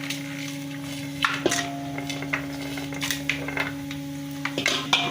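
Whole spices, garam masala and bay leaves sizzle in hot ghee in a pot for chicken dum biryani, a soft steady hiss under a constant background hum, with several sharp clinks of a utensil against the pan.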